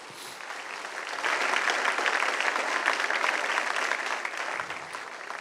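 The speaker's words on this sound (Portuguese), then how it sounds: "Se vai aplaudir, aplauda forte." A church congregation at a Portuguese-language service claps loudly, a dense, sustained round of applause that swells after a second and holds steady before easing slightly, with no talking.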